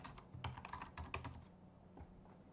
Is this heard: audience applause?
no